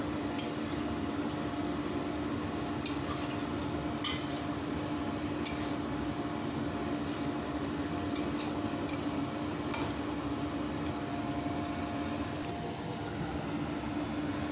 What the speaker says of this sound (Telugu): పచ్చివాసన పోయే వరకు ఫ్రై చేయాలండి.